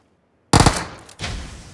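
Gunfire from PUBG Mobile erupts suddenly after a short silence, a loud dense burst followed by a quieter second volley, shots aimed at vehicle tires.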